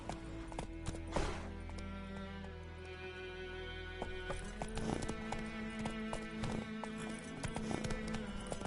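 Roach, a horse in The Witcher 3, gallops with steady clip-clop hoofbeats, close and continuous under game music, with a brief whinny-like burst early on.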